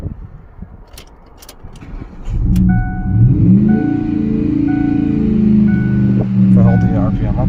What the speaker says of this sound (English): If I hold the RPM up, it dies.